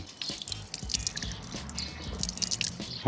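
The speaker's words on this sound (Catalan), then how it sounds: "Tenim font." At a public fountain in Collsuspina, Catalonia, water splashes and drips steadily, sounding close with many small irregular plops over a soft liquid wash.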